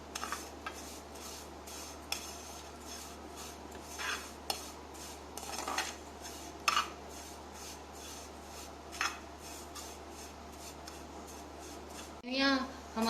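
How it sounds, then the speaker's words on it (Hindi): Vermicelli roasting in ghee in a pan for sheer khurma, with a quiet, rhythmic run of spatula scrapes and stirs over a low hum, and a brief voice near the end. "हमने इसी घी में सेवइयां डाल दी हैं और इसको भी भून लेना है।"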